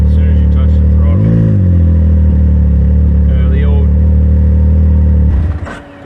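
A 2019 Can-Am Maverick X3 side-by-side fitted with a 2023 P Drive clutch rumbles loudly up close, with a short rising rev, under someone talking.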